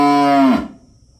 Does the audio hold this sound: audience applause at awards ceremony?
no